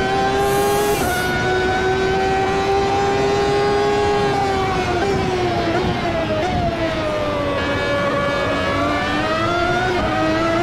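Race car engine in the AMS2 racing game at Silverstone, a loud sustained high-pitched whine that climbs and shifts pitch through gear changes as the car accelerates, steady and close throughout.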